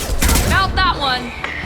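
Gunfire in the Mass Effect 2 Legendary Edition battle on Omega comes as a dense, rumbling burst of shots mixed with other combat effects, under voices.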